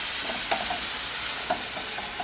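Vegetables for turkey noodle soup sizzling gently in a pot, a low steady hiss with two or three distinct spoon clinks as they are stirred, close and fairly quiet.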